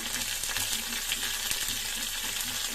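A tadka of mustard seeds, cumin, slit green chillies and curry leaves sizzling in hot oil for boondi raita: a continuous bright hiss and crackle with a rhythmic stirring clatter, close and steady, with no talking.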